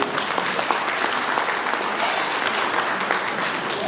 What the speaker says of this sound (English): I want you, first of all, to give yourselves a round of applause